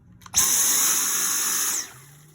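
A Dyson V10 Absolute cordless stick vacuum starts up with a high, whining motor hum that holds steady for over a second, then cuts off abruptly.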